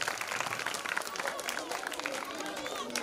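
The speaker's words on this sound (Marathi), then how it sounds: "त्यांच्यासाठी एकदा जोरदार टाळ्या वाजून आपण त्यांचं स्वागत करूया" An audience claps steadily in welcome at a Marathi stage event, a dense continuous patter of applause at moderate level with a crowd murmuring beneath it.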